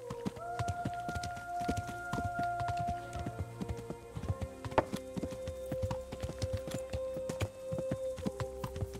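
Horse hooves gallop in steady rapid clip-clop beats within the medieval game Kingdom Come: Deliverance, close and fairly loud over sustained musical tones and ambient background.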